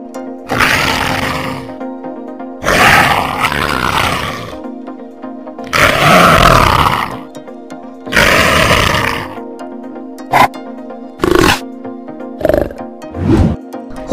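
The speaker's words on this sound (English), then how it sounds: "Lion." A lion roars in a series of deep, loud, close bursts. Four long roars come first, then several shorter grunting calls follow quickly, with a steady hum between them.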